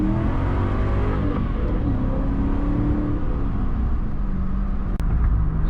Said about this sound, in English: It doesn't spin the tires like the other Mustang, huh?